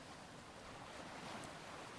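Ocean waves wash steadily onto a beach, a continuous broadband surf roar with faint wind, fairly soft and even throughout with no distinct breaks.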